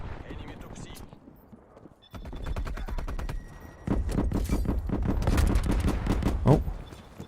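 Gunfire in a video game, sniper shots alongside rapid rhythmic gunfire and clattering, loud and close, with a voice speaking over it.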